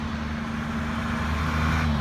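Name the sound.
road traffic with lorries and cars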